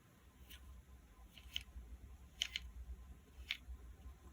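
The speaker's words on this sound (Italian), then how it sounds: "Sistema click stop di alta qualità" The click stops of a Swarovski NL Pure 14x52 binocular are turned, giving a handful of small, crisp, faint clicks spaced irregularly, close and alone in a quiet room.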